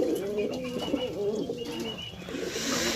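A pigeon coos close by in a repeated, throaty rolling call, with a few softer coos following and faint background hiss.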